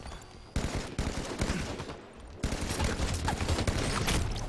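Rapid bursts of gunfire and explosive blasts from the video game Halo 5 crackle densely in a chaotic firefight, loud and continuous with sudden sharp onsets.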